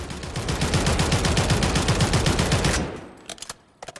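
Sustained full-auto bursts from an HCAR rifle in Call of Duty Modern Warfare III, a loud, rapid, evenly spaced string of shots for nearly three seconds, cutting off to a quiet tail with a few faint clicks.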